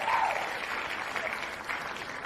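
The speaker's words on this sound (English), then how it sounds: "Round of go. applause." A round of applause from an audience at a 49ers draft-selection event, steady dense clapping alone and fairly faint, holding evenly for a couple of seconds.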